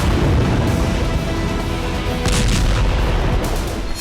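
A B61-12 nuclear gravity bomb test explosion produces a loud, continuous roaring rumble with crackling bursts that lasts the whole stretch, with no voices.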